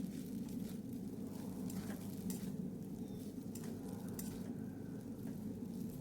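Chicken chow mein is stir-fried and tossed in a pan, giving a faint, continuous sizzle with soft scraping from mixing throughout.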